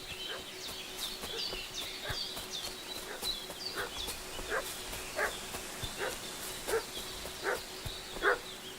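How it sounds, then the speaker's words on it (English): A dog barks repeatedly in a village in the video game Kingdom Come Deliverance 2, with rhythmic mid-distance barks over outdoor ambience and birdsong. "What's that dog making such a fuss about?"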